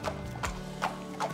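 Horses trotting at a racecourse stable area, their hooves beating a clear clip-clop rhythm with about four sharp impacts spaced evenly, close and fairly loud with no talk.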